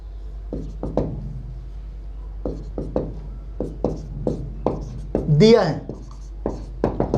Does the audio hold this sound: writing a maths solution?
yes